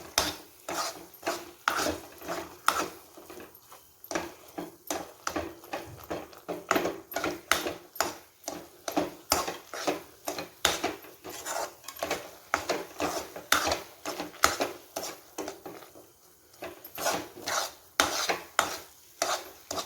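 Dates halwa frying in ghee with steady stirring, a spoon scraping and clacking against the pan in a brisk, repeated rhythm over a soft background sizzle, close and clear with no talking.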